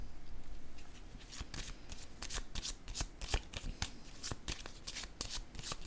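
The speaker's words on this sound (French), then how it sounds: "Je vais piger une autre carte." Crisp, rapid riffling and snapping of playing cards as one is drawn from the deck, a quiet run of sharp shuffling flicks with no talking over it.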